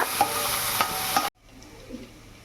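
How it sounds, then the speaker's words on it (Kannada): Curry leaves and onions sizzle and get stirred in a pan, with loud spoon scrapes and crackling frying before the sound suddenly drops to a faint low simmer halfway through. "ಈಗ ಕರಿಬೇವು ಮತ್ತು ಆನಿಯನ್ ಆ್ಯಡ್ ಮಾಡ್ತಾ ಇದ್ದೀನಿ ಇದು ಸಹ ಒಂದು ಸ್ವಲ್ಪ ಟ್ರಾನ್ಸ್ಲ್ಯೂಸೆಂಟ್ ಆಗಲಿ"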